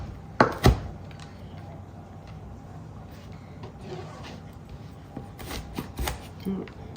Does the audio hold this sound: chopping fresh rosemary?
yes